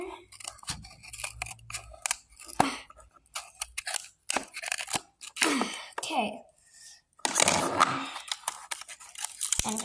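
Scissors snip and cut at a Calico Critters toy box packaging, sharp close clicks and crunchy cardboard and plastic tearing in uneven bursts, with speech between the cuts.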